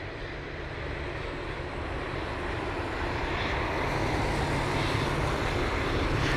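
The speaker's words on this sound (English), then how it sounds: "There's a mighty aircraft. You can see the engines of the 787." A WestJet Boeing 787 jet roars steadily with its engines running, a broad, loud, continuous rumble and hiss that grows slightly stronger over time, with no voices present.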